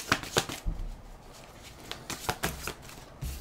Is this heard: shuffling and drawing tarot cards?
yes